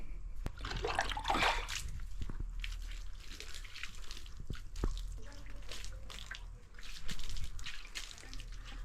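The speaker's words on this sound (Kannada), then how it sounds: "ಬನ್ನಿ, ಲೈಟಾಗಿ ನೀರು ಹಾಕಿ ವಾಶ್ ಮಾಡಿಬಿಡೋಣ." Water poured over a bicycle while washing it: intermittent splashing and dripping up close, with a louder gush early on and another later, plus a low background rumble.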